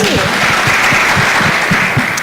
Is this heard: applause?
yes